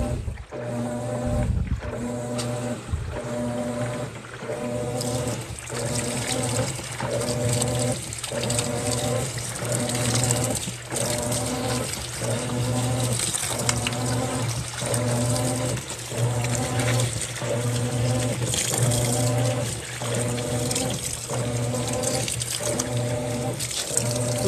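A washing machine filling with water gives off a steady rushing flow with a low hum, and faint rhythmic knocks repeat about every second through the whole stretch.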